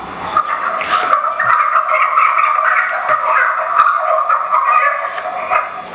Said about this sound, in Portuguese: É uma galinha. Galinha choca.